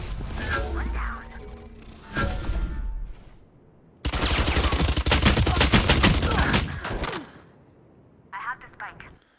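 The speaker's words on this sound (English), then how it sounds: "he hit all these shots with the daggum ghost from that distance" Ghost pistol gunshots in the Valorant video game, with rapid cracking shots and a long, dense string of firing in the middle, loud and near, with a voice talking over the earlier part.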